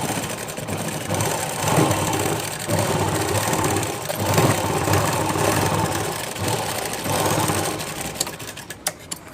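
A sewing machine stitches a blouse hook strip with a rapid, steady mechanical chatter, running close and loud in several bursts separated by brief slowdowns, then ending with a few clicks.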